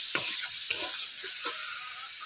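Potatoes and spices sautéed together in a pan for a Bengali rohu fish curry, a steady loud sizzle with two sharp spatula scrapes near the start and softer stirring after.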